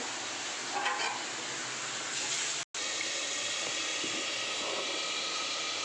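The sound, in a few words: tomatoes sautéing in a covered pan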